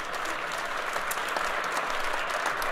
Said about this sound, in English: Give them a warm, warm round of applause.